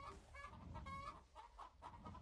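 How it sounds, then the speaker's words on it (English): Chickens cluck in the Minecraft video game, a string of short, quiet, nasal clucks repeating in an irregular rhythm over a low background hum. "Why do I hear the chicken thing going off?"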